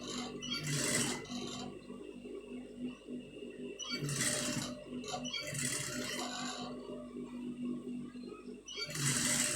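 A sewing machine stitches piping onto fabric in several short motor bursts of rapid stitching, with quieter pauses between runs and no talking.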